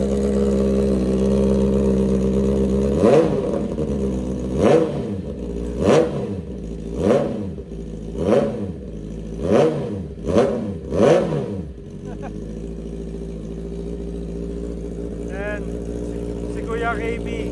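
A brand-new Honda CB650R motorcycle with a freshly fitted aftermarket exhaust pipe and its silencer removed idles steadily, then roars through about seven sharp, loud revs in quick succession before settling back to a rumbling idle.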